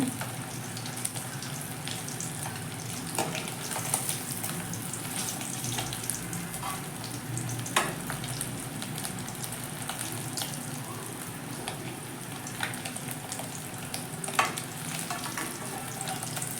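Small anchovies (nethili) deep frying in hot oil, a steady crackling sizzle with scattered sharp pops running throughout at close range.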